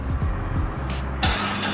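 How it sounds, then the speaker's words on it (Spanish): A Dodge SRT4 with a newly replaced fuel pump cranks with a rhythmic chugging starter, then catches and settles into a louder, steady engine run, with no voices. "Prende el carro"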